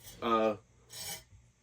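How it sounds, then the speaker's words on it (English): An all-thread rod being screwed into a Top Shot Archer crossbow press in a home shop: two short raspy metal-on-metal scraping turns, close and fairly loud, with a brief pause between them. "we take the all thread and we thread it in here a little bit, about 2 inches"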